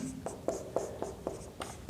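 Chalk or marker writing on a board during a maths lesson, with a run of short, evenly spaced scratchy strokes, quiet and close, with no talking.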